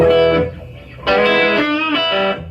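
Loud electric guitar chords ring out through an amp with echo as the only effect, an echo trailing each strum, two sustained bursts separated by a brief quieter decay.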